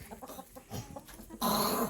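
A hen gives a few quiet, short clucks nearby, then a louder burst of broad noise takes over for the last half second.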